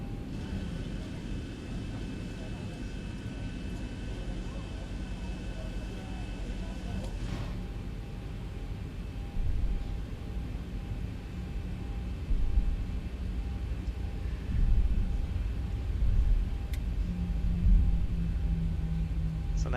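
Boeing 737-800 engines in a flight simulator game as the airliner begins taxiing at LEPA, Spain: a steady, loud low rumble and whine that holds throughout, swelling slightly in the later seconds.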